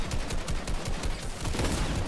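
Rapid automatic gunfire in Fortnite rattles on without a break, a dense, loud burst of shots that fills the whole stretch with no voices over it.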